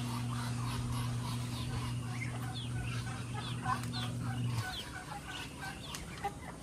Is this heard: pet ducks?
yes